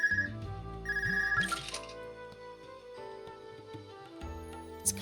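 A telephone ring repeats in short electronic bursts in a video game, fairly close, with clinks and game sounds between the rings and no talking.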